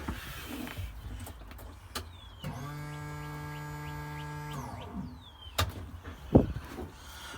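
A car's electric fuel pump runs with a steady, tonal motor whine for about two seconds, rising in at the start and winding down at the end. A few clicks and a knock follow, and no one speaks.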